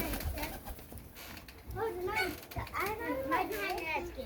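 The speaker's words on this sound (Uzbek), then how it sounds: "Mana kaptarlar." Pigeons coo in a loft, soft warbling calls rising twice near the middle and end while a voice talks over them and children can be heard in the background.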